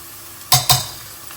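A spoon stirs ginger paste into lightly golden onions frying in a pan, giving two quick, close scraping strokes with a faint sizzle underneath and no talking.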